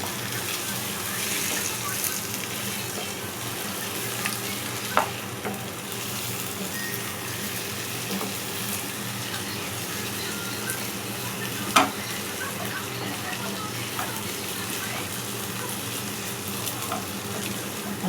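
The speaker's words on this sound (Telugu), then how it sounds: "ఇప్పుడు కొంచెం కలుపుకుందాం కారము గుడ్డు కలిపి కలిపేయకుండా" Egg being stirred with chili powder and chopped large onion in a hot pan, a steady close sizzle with scraping spoon strokes and a couple of sharper knocks, no talking.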